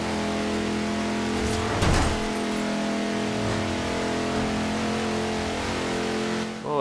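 A car in the Forza Horizon 2 racing game accelerates toward top speed, a loud, continuous engine roar that climbs steadily in pitch through the gears, with a brief surge around the middle.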